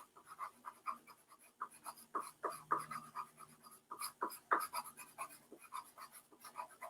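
Colored pencil shading strands of hair in a drawing, a close, quiet run of short scratchy strokes in quick uneven bursts with brief pauses between them.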